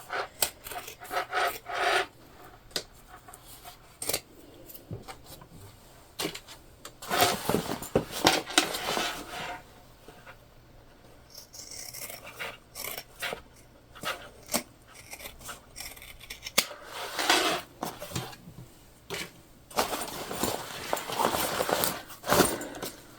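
Tote bag fabric is trimmed down to a quarter-inch seam allowance, producing close, intermittent snips and rustling rubs in irregular bursts, with quiet pauses between cuts.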